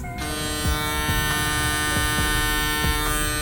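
A small electric motor in a newly unboxed black device with a hybrid blade, rated at 9,000 RPM, runs steadily with a strong even hum and faint periodic ticks, close and alone.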